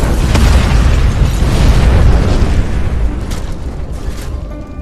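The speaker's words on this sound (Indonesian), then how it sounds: "Kang kemudian melemparkan tasnya yang telah terisi bom dan meledakannya" A bag packed with a bomb blows up in a Korean drama action scene, a loud sustained blast with a heavy low rumble that slowly fades into echoing debris noise, with no voices.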